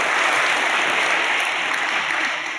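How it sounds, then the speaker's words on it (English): A conference crowd at a Harvard IT summit gives a round of applause for inaugural hackathon participants: a thick, continuous wash of clapping, loud and even, tapering slightly at the end. "Please, round of applause for our inaugural hackathon participants."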